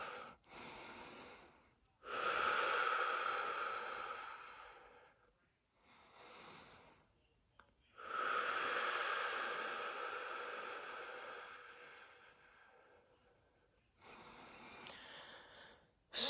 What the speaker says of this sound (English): Let me take a breath